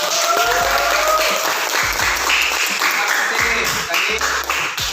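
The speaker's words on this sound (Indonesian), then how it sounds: "Tepuk tangan dulu deh buat kita." A classroom group of teachers-in-training bursts into loud, dense applause, many hands clapping continuously and close by for several seconds, with scattered voices under the clapping.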